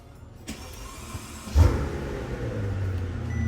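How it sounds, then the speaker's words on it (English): A 12-year-old Mercedes-Benz S65 AMG V12 engine cranks via keyless start and fires up with a sharp burst at about a second and a half, then settles into a deep, steady idle nearby. "Glorious V12 sound"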